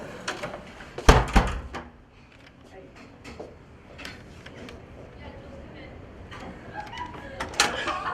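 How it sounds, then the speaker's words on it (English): A door shutting with a loud, close slam and a brief rattle, followed by scattered softer knocks and clicks of a latch, with people talking in the room. "He shut the door on me."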